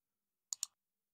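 A computer mouse clicks twice in quick succession, sharp and close, in otherwise silent surroundings.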